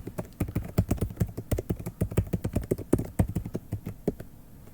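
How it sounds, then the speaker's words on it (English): Rapid, uneven keystrokes on a computer keyboard as a password is typed, a close dense run of sharp clicks with brief pauses and no talk. "Then we're going to type in our password."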